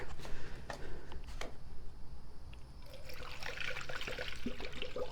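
Distilled water trickles and pours steadily into the radiator of a Corvette C3, a soft continuous gurgle with a few clicks, fairly quiet and close.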